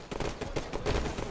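Rapid bursts of gunfire in a Halo 5 multiplayer match, a quick run of crackling shots at moderate loudness, fairly close, with no voices.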